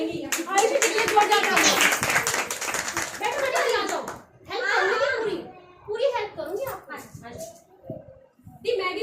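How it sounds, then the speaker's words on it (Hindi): A small group claps loudly for a woman named Ayushi at an indoor gathering, a burst of rapid applause mixed with voices and children talking, then speech carries on alone with scattered sounds. "आयुषी जी के लिए जोरदार तालियां"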